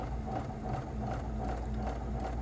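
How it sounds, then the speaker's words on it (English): A sewing machine runs at about half speed, stitching with an even, rapid mechanical chatter over a low motor hum, steady and close throughout, with no talk. "I'm going to go ahead and start sewing"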